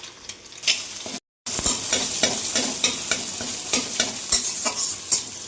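Long beans and egg fry in a little oil for a bharta with dried chillies, giving a loud, steady sizzle and crackle, briefly cut off once, with frequent stirring scrapes.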